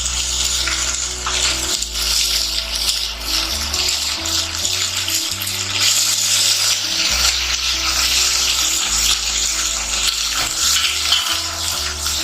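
Ginger, garlic and green chili paste frying in a pan for Parsi mutton pulao, a steady loud sizzle with stirring scrapes throughout, no voices.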